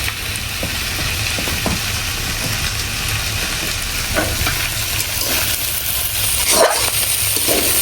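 Small bitter gourd (ucche) fries loudly in a pan in a home kitchen, with a constant close crackle and occasional scraping stir sounds, and no one speaking.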